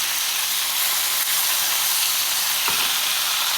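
Pork chops fry in a pan for Hong Kong cha chaan teng pork chop fried rice, giving a steady, loud broadband sizzle and hiss that runs the whole time, with one brief shift partway through and no voices.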